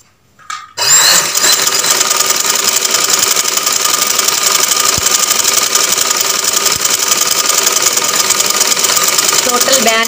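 A sewing machine stitching along the edge of a shirt neck band starts after a short pause, then runs as a fast, steady, loud mechanical whir for about nine seconds.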